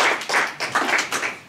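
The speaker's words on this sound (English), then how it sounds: "Let's just give them all a round of applause." An audience at a vegan advocacy event applauds the organizers. Close, loud clapping comes in rhythmic bursts from a small group of people.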